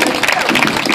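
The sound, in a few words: audience applause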